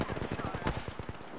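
Rapid bursts of automatic gunfire from an Apex Legends match crackle in quick succession, dense and continuous with players talking over the shooting.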